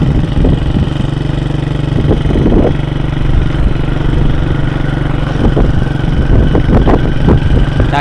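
A motorbike runs close and steady while being ridden on a Songkran holiday trip to Vang Nam Kiew in Laos, its mid-pitched engine drone broken by occasional rattles and bumps.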